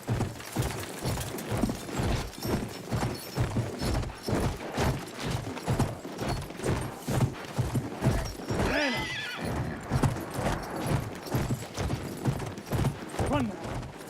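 Galloping horse hooves in Battlefield 1, a steady clip-clop rhythm running throughout alongside whinnies and distant gunfire, with voices speaking over the action.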